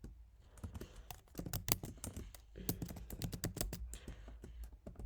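Close, brisk typing on a computer keyboard as a grep search command is entered, with irregular bursts of key clicks and short pauses between words, heard alone without talk.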